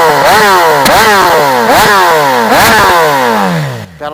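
A 2014 BMW S1000RR with a TaylorMade full exhaust revving hard in four sharp repeated blips, each climbing and falling in pitch, very loud and close, ending with a brief pop as the revs drop away.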